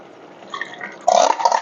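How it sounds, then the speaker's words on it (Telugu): Water poured into a clay pot of cucumber curry: a faint low trickle, then a sudden louder gush and splash near the end, with no one speaking. "కొంచెం వాటర్ వేసేసుకుంటాం."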